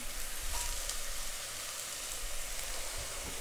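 Onion sautés in olive oil over moderate heat, a steady close sizzle and crackle that holds evenly throughout with no talking.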